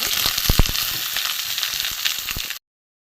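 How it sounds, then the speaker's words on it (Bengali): Pieces of pointed gourd (potol) fry in hot oil in a pan, a loud, steady crackling sizzle with a couple of sharp pops near the start before it cuts off abruptly. "আমি পটলগুলো ভেজে নেব। পটলগুলো আমি একটুখানি ভেজে নেব।"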